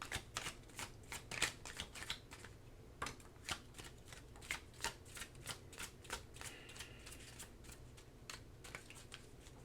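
Tarot cards being shuffled by hand, a quiet close run of soft riffling flicks and slaps repeating steadily throughout, with no voices.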